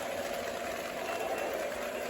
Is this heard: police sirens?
no